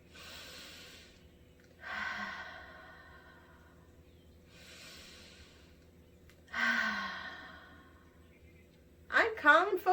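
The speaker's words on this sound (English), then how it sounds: "Remember to breathe in through your nose and out through your mouth." Two deep breaths by children in a pre-K classroom, each drawn in through the nose and let out through the mouth as a long airy sigh, evenly spaced, ending in brief louder noise.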